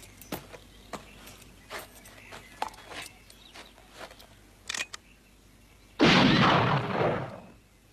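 Gunshots in a colorized John Wayne western film: a string of sharp, scattered cracks at moderate level, then a loud, sustained blast of gunfire near the end.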